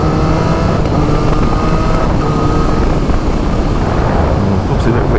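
Loud Triumph 765RS motorcycle with an Akrapovic full decat exhaust and Spark headers, riding on the road, with steady wind roar and engine drone throughout, with faint pops mixed in.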